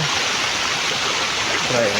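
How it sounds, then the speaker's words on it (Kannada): A continuous, steady rush of stream water flowing up and falling back down, loud and close throughout, with no talking. "ನೋಡಿ ಈ ಥರ ನೀರು ಮೇಲೆ ಹೋಗಿ ಕೆಳಗೆ ಬರುತ್ತಿದೆ."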